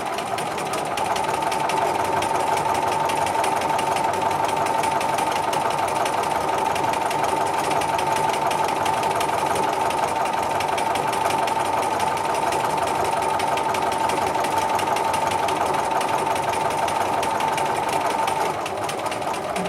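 A sewing machine runs steadily while stitching quilting lines on a grid-based quilt with a lollipop design, giving a continuous high-pitched motor whir at an even, close level for the whole stretch, with no talking.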